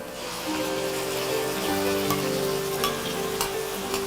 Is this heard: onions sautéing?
yes